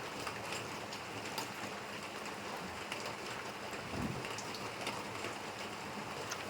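Steady rain falls continuously, a dense hiss of drops on surfaces with no voices.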